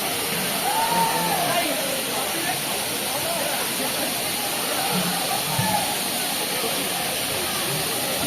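Daringbadi waterfall rushes in a steady, dense roar of falling water, with faint voices briefly audible beneath the constant wash.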